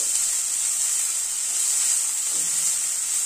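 Chopped onions sautéing in a pan over a high gas flame give off a steady, loud sizzle, close and continuous without a break, and no voices are heard over it.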